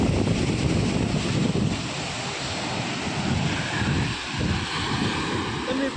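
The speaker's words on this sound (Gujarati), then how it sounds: "ને આ દરિયો છે." Sea waves wash against the shore while wind buffets the microphone, making a loud, rolling roar that swells and eases over a few seconds.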